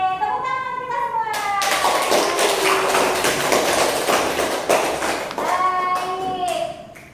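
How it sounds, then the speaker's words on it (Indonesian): A classroom of pupils gives a burst of dense, lively applause lasting a few seconds, framed by a teacher's voice before and after. "Oke, tepuk tangan kita semua."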